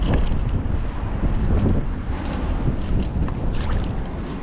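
Strong seaside wind roars steadily across the microphone during net fishing at high tide, a dense continuous rumble and hiss with no pauses throughout.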